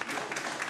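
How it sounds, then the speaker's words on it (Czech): Audience applause for a children's amateur theatre group's performance, a brief dense burst of clapping heard up close. "Píle a práce byla oceněna nejen potleskem diváků."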